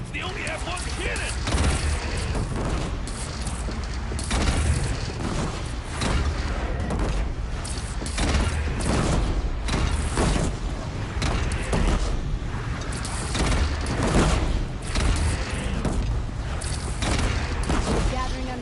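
Repeated heavy booms and blasts of cannon fire in a battle in Horizon Zero Dawn Remastered, dense and loud, with chaotic clatter and voices mixed in.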